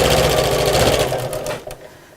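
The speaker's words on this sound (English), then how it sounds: "carry on sewing on the other side" Sewing machine stitching a seam on a messenger bag, a fast steady mechanical whirr up close that slows and stops near the end.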